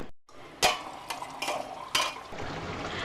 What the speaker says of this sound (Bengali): এবার এক এক করে মাছ দিয়ে দিচ্ছি। এবার নেড়ে নেব